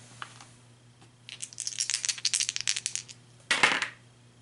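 Dice rattle and roll during an Arkham Horror board game, a quick clattering burst of hard little impacts on a table, then a short sharp final clatter, close and fairly quiet with no talking.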